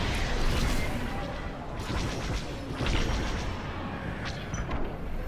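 Starfighter cannons and explosions rumble loud and continuous through a space dogfight in Star Wars: Squadrons, with dense blasts and crashes layered thickly throughout.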